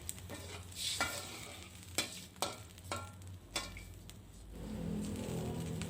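Steady frying sizzle with several sharp clatters of a utensil against a wok, then a broader hiss as about a glass of water hits the hot surface while cooking bok choy with garlic.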